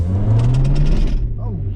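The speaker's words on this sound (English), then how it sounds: "Our VTEC noises." An EK Honda Civic engine revs hard into VTEC, its low, loud drone climbing in pitch, then dropping away as a rush of air takes over.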